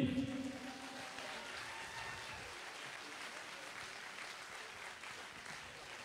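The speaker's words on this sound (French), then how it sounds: "vous pouvez vous applaudir les amis." Applause at the opening ceremony of a Relay for Life event at ULB in 2019: a crowd claps steadily and fairly faintly for about six seconds after a brief louder start.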